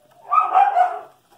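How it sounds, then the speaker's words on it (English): Dog indoors giving one loud, close bark-like burst lasting about a second, then quiet. "My dog won't be quiet"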